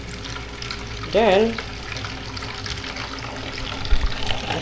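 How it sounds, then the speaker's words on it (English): Water runs from a kitchen tap during cooking, a steady faint hiss under kitchen background noise, with a brief spoken word partway through. "I'm gonna add a little water."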